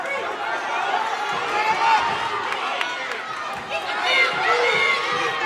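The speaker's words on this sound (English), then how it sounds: "Crowd getting into it" Spectators at a high school wrestling match in Collingswood cheer and shout steadily, a dense, excited crowd roar that rises and swells throughout, with no single voice standing out.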